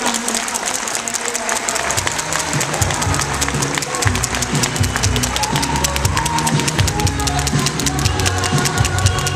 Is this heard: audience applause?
yes